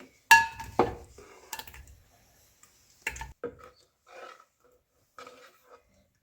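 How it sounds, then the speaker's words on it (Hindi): Chopped tomatoes tipped into a cooking pot for purée make a few close, uneven clunks and soft thuds, with scraping and small clinks in between, separated by short silences. "अब इस सबको मैं एक पोट है या देचकी, जो भी आप ले लें, जिसमें भी आपने प्यूरी बनानी है, इसमें डाल दूंगी"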